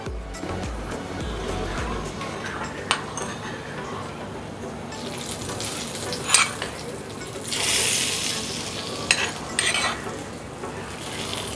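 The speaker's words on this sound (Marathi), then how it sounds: "आता हा उरलेला तडका मी मधल्या डाळीवर घालणार आहे" Hot tadka tempering is poured over spinach dal (palak varan), giving a loud crackling sizzle that flares in bursts near the middle and settles, with light stirring and utensil clinks around it.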